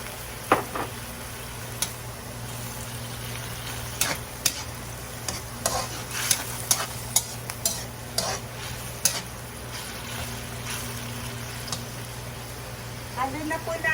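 Tuna Bicol express stirred in a pan, with irregular clinks and scrapes of the spoon over a low sizzle and a faint steady hum underneath.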